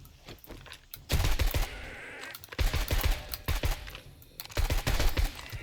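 Guns fire in the Shotgun Hobo game prologue, with three loud, close bursts of rapid shots separated by quieter pauses.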